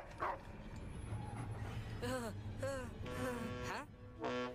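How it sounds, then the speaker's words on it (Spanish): Barks from the dog Sirius Black in LEGO Harry Potter, several short yipping barks and a whimper spaced over a few seconds, moderately loud over steady game background sound and music. "Este perro es Sirius Black."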